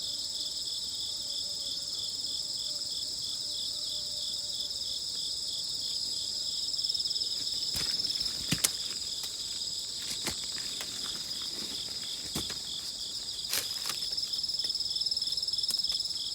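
Crickets in a bed of young cabbage seedlings for kimchi, a steady high-pitched chirring drone throughout, with a few faint rustles and taps of movement nearby.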